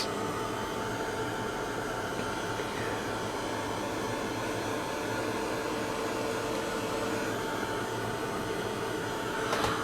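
A hair dryer blows steadily and loudly over a shabby chic craft plaque, a constant whooshing roar that fills the whole span without pause.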